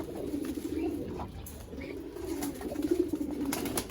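A pigeon coos close by in low, rolling calls that repeat throughout, with faint chirps in the background.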